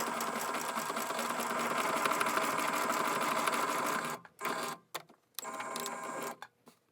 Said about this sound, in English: So now you're just going to sew that.